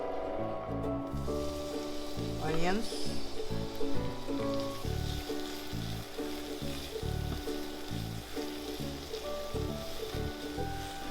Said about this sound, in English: You heat the oil, and then we saute the garlic and the onions.